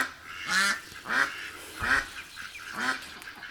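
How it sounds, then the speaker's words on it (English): Several small New Zealand ducks, including a drake, quack at Taitua Arboretum in Hamilton, New Zealand, four or five nasal calls spaced about half a second apart, fairly close and clear with no one talking. "there's a drake, little New Zealand birds, nice little ducks."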